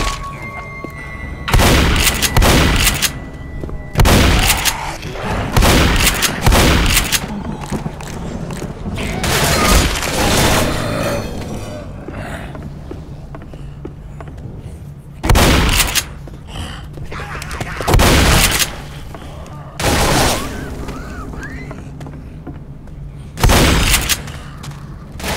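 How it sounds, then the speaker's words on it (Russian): Gunfire in the zombie shooter game Left 4 Dead: repeated loud bursts of shots and booming impacts, clustered in several volleys with short pauses, over a steady low game ambience. "Классный выстрел."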